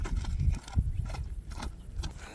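A horse walking, its hooves clip-clopping in an uneven, moderately close rhythm of soft thuds with no talk over them.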